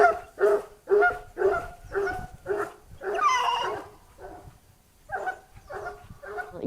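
Hunting hounds from a chasse à courre bark loudly and close in a steady run of repeated barks, with a brief yelping flurry in the middle before the barking resumes.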